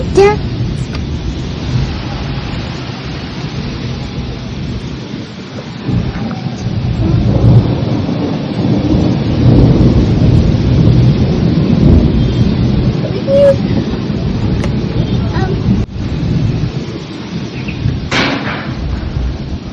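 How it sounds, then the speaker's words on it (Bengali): A loud storm seen from a third-floor window, with heavy rain pouring steadily and deep rolling thunder rumbling through, plus a few sharp gusts and cracks. "আর এখন ঝড় উঠেছে,"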